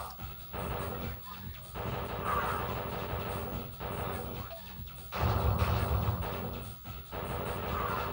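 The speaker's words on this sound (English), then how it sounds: "All you gotta do is shoot the Terminator off screen at this part." Gunfire against the Terminator in The Terminator video game for Sega CD, a dense run of game shots and crashing blasts that keeps going for the whole stretch over a loud, busy soundtrack.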